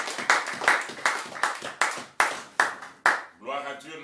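A church congregation claps in a steady, evenly spaced rhythm, about eight sharp, loud claps in a row, followed by a brief voice at the end.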